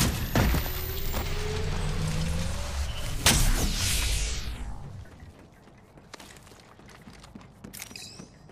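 Shield recharging in Apex Legends, a sustained rising electronic whir with mechanical clicks and a sharp burst, then fading into quieter game ambience.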